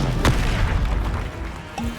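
The Incendio fire spell is cast in Hogwarts Legacy, a sudden booming burst followed by a short rumbling tail with a faint secondary pop.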